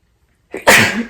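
A single sharp sneeze, close and loud, after a brief quiet pause and a short intake of breath.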